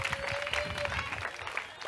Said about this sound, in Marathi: जोरात टाळ्या झाल्या पाहिजेत एव्हरीवन